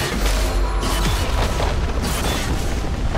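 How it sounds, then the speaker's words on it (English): A turret being destroyed in League of Legends, a dense, continuous rumbling boom with crashing debris, loud and close, filling the whole stretch without any talk. "Red team's turret has been destroyed."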